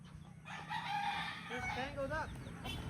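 A tangled-up chicken squawking and clucking in agitated, wavering cries close by, over a low background rumble, with no clear talk.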